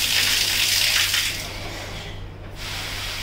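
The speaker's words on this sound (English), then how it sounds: "waterfall" Steady rushing water pours down from a 19x13 ceiling shower in waterfall mode, a broad hiss that softens slightly midway before resuming at full strength.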